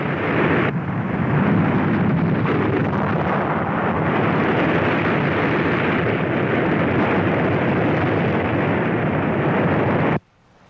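A tidal wave strikes the Hilo beach and waterfront on the Pacific, a huge, continuous roaring crash that holds at full loudness for about ten seconds before cutting off abruptly.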